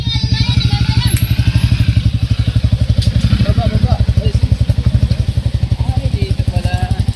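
Motorcycle engine running steadily up close with a fast, even pulsing throb on a slippery mountain path, loud throughout, with people calling out over it and occasional clatter and thuds.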